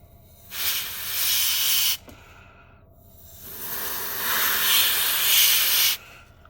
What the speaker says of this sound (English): So I've got a little bit of compressed air here.